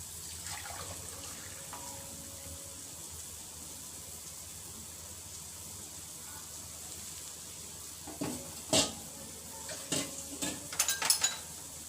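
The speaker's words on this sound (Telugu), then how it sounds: "కొద్దిగా డెలికేట్గా ఇది కలుపుకోవాలండి, రఫ్గా కలుపుకోకూడదు" Mutton biryani being gently mixed in a pressure cooker: a quiet, steady background, then a cluster of soft scraping and clinking strokes near the end.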